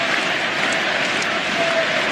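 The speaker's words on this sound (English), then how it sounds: "the crowd right now sensing the end of the series and already beginning. Right now, the chant, the applause" Basketball arena crowd roaring and applauding near the end of a playoff series, a dense, steady wall of cheering and clapping that fills the whole stretch without a break.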